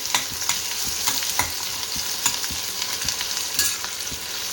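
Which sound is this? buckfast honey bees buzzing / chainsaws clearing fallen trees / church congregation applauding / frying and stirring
frying and stirring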